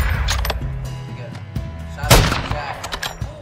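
Pistol gunshots in a video game fire in a quick burst of sharp reports, loudest around the middle, with a short final crack at the end under busy game sound and faint voices.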